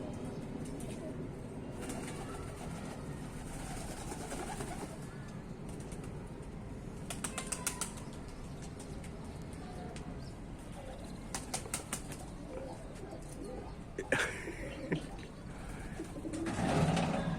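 Pigeons coo softly in a loft while wings flap in several brief bursts, with scattered rustling and a few quiet voices in the background.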